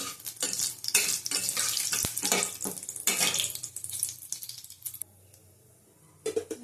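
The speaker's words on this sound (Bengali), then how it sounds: "ভালো করে ফোড়নটা ভেজে নেব" Spices crackle and sizzle in hot oil while a utensil stirs and scrapes the pan, then the sizzle drops to a soft hiss before a brief final burst.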